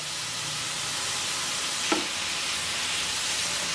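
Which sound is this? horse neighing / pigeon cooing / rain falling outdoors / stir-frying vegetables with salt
stir-frying vegetables with salt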